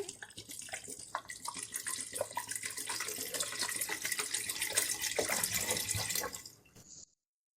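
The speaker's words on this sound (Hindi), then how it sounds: "अब 1 लीटर हम इसके अंदर पानी शामिल कर देंगे।" One litre of water runs steadily into a cooking pot of meat for several seconds, a close, splashing gush that stops abruptly near the end.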